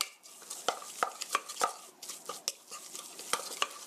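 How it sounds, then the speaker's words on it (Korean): Seasoned minced meat for Korean green chili pancakes stirred firmly in a bowl, a quick series of close, sharp scraping and slapping strokes, about three per second, with no talking. "그리고 고기에 끈기가 생길 수 있도록 이렇게 저어주세요."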